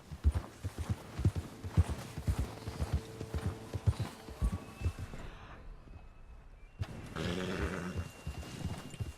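Rhythmic hoofbeats of a horse in Red Dead Redemption 2 clop at a walking pace, dull and even, before dropping away into a quieter stretch and then a low rumble.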